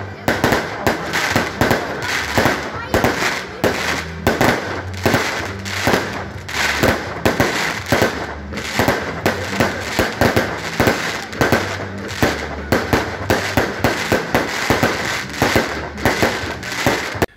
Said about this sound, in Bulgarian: Тържествата завършиха с впечатляваща заря.